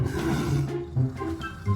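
Lion roaring in a cartoon comedy, a continuous low rumbling growl that swells in several surges, loud and close, with no talk over it.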